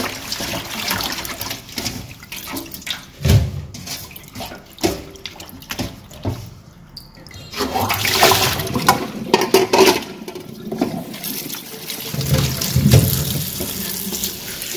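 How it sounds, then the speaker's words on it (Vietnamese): Guava leaves picked from a home garden are rinsed under a running tap, with water splashing and gushing into a sink in uneven surges and brief pauses, close and fairly loud. "Mình rửa sạch cái phần lá ổi đi các bạn nhé."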